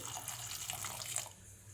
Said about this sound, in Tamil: இப்போ இதில் கொஞ்சம் தண்ணி விட்டு